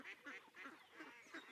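Several ducks quack in a quick, uneven run of calls, fairly close and faint, with no speech over them.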